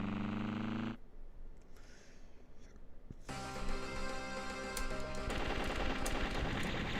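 Rapid gunfire and explosive bursts in a PC shoot-'em-up game, loud and continuous after a brief lull, with layered electronic shots and rattling bursts that build toward the end.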